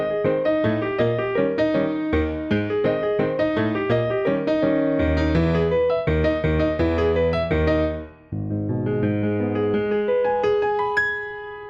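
Solo piano playing the opening of section A of Scott Joplin's Maple Leaf Rag, a bouncy syncopated ragtime passage with a steady oom-pah bass under bright chords, clear and close, briefly pausing before resuming.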